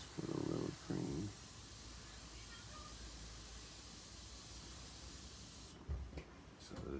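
Airbrush spraying green Angelus leather paint onto leather: a steady, even hiss held for several seconds with brief breaks, close and fairly loud, with faint murmurs at the start and end.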